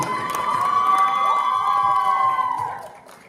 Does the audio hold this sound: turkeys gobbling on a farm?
no